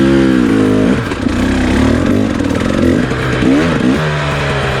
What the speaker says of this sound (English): listen to my bike's revs run away